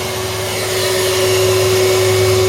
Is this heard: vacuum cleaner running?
yes